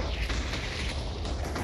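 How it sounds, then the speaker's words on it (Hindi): Rumbling TNT blasts in Minecraft, a dense low boom with crackling debris that stays loud and continuous throughout, with no voices. "धमाके होने वाले TNT के"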